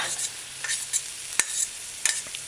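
A jerk hamburger patty and onions sauté on a stovetop pan, with a soft continuous sizzle broken by sharp scraping clicks of a utensil stirring and turning the food.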